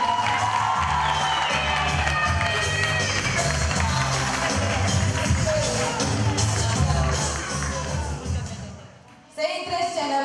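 A school freshman ball crowd cheers and applauds loudly and continuously, with whoops and shouting voices filling the hall before the noise briefly dips near the end.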